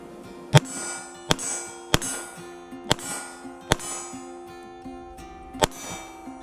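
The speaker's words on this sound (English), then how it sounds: "you'll be able to hear the steel if I hit it" Sig Sauer P210 pistol fired outdoors at a small steel target some distance away: six sharp, loud shots at uneven intervals, several followed by a bright metallic clang and ringing as the steel is struck.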